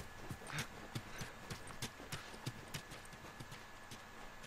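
Horse hooves clip-clop at a steady walking rhythm in the video game The Last of Us, moderately close, with a continuous low background bed behind the regular clopping.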